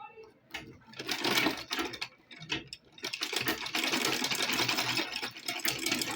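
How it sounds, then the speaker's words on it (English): Sewing machine top stitching along the edge of a 2-inch strip folded in half for an adjustable strap, running in close bursts that stop and restart, with a steady mechanical whir in the longer second run. "So I'm going to top stitch"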